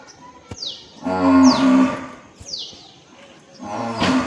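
A buffalo moos loudly and close by, giving a long, drawn-out low call followed by shorter bellows, with quiet gaps between them and no voices.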